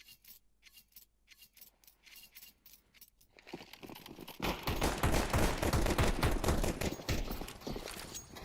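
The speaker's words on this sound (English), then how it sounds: "A couple of singing pistols here at the start." Pistol gunfire in a Counter-Strike pro league match, starting as sparse scattered shots and building into a dense, rapid clatter of overlapping fire, heard at a moderate distance.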